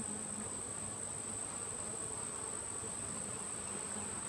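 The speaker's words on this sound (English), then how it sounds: "These bees appear to be busy doing something." Honey bees buzz steadily at an open hive in a weak colony infested with hive beetles. The drone is continuous and close, with no voices.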